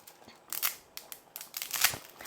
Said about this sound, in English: I'll also take scissors through hers just to help make sure it's small enough for her to eat.